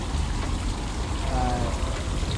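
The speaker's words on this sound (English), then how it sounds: "I made a waterfall, and I made a creek, and I made the sound of water omnipresent" A garden waterfall and creek in midtown Toronto give a steady, dense rush of falling and running water, constant and close with no pauses.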